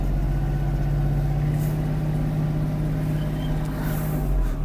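A Kubota GL-260 Japanese mini tractor's diesel engine runs with a steady low throbbing hum that rises slightly as throttle is added, close and continuous.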